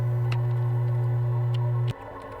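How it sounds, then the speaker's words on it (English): A triangle wave from a wavetable synthesizer coded in Ruby holds one steady low tone for about two seconds, then cuts off abruptly, leaving faint background noise. "We have triangle waves."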